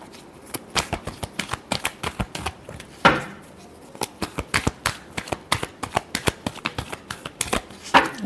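Tarot cards are shuffled by hand in quick rhythmic bursts of crisp flicks and taps, close and dry, with a short pause near the middle before the rapid riffling resumes.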